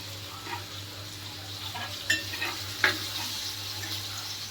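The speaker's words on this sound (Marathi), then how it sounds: "सुरमईची किरकिर ऐकण्याची मजा आहे" Surmai (kingfish) frying in a pan, a steady quiet sizzle with a few sharper crackles and scrape-like bursts, no voices over it.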